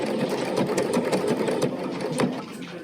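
A Bernina sewing machine runs steadily, stitching with orange thread, its rapid mechanical patter close and even, with small bumps in rhythm and a slight drop in level near the end.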